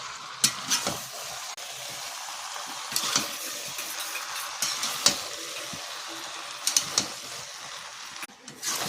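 Meat with turmeric sautéing in a pan, a low steady sizzle broken by repeated scraping strokes and clinks of a spatula stirring, close and fairly quiet.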